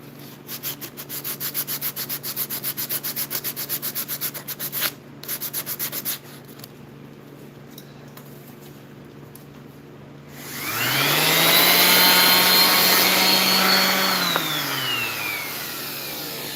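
A power sander works on wood while a mallet is being made, first a rapid pulsing rasp for several seconds, then a louder steady motor whine that rises in pitch, holds and winds down, close and unaccompanied by talk.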